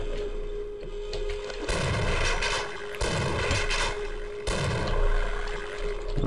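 Shotgun blasts in Half-Life ring out in heavy bursts, about three loud booming volleys spaced a second or two apart over a steady game hum, with no talk.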